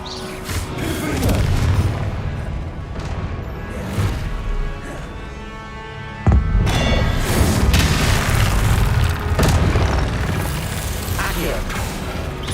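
A Confringo fire spell blasts in Hogwarts Legacy on Xbox Series X, with a sudden loud booming impact mid-clip amid dense rumbling combat effects and mechanical clatter, close and busy.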